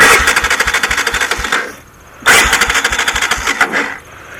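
Honda 300EX quad with a suspected bad spark plug cranks and fires, chugging loudly and rhythmically up close, dropping off briefly, then catching again with steady pulsing beats.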